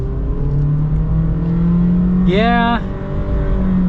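A 2023 Honda HR-V SUV accelerates at full throttle, its engine drone climbing steadily in pitch from start to finish. A voice cuts in briefly about midway.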